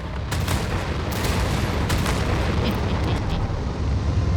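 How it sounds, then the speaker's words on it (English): A nuclear missile lifts off in the futuristic strategy game Anno 2205 with a loud, continuous roaring rumble, steady and dense from start to finish and punctuated by a few sharper cracks. "Launching. Nuclear missile."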